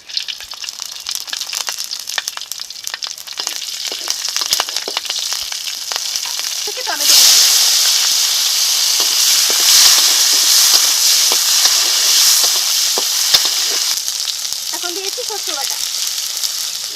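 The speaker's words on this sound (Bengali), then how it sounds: "ফোড়নের জন্য এই তেলে দিয়ে দিচ্ছি কাঁচা লঙ্কা ও গোটা জিরে" Green chillies and whole cumin seeds hit hot oil in a pan, giving a loud, steady sizzling hiss that swells suddenly partway through and then holds, with some earlier clatter and faint activity beneath.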